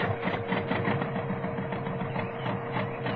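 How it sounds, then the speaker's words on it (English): Generator and tractor motor running as a radio-drama sound effect, a close, loud, steady mechanical rattle with a fast rhythmic pulse and a sustained hum, heard alone. "Generator, start up! Well, that's working all right. Start up tractor motor!"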